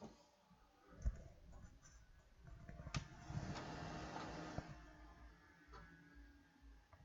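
A newly assembled desktop PC powering up after its power button is pressed: a faint click, then a soft whirring hum with scattered ticks and clicks building and fading over several seconds, heard up close and without speech.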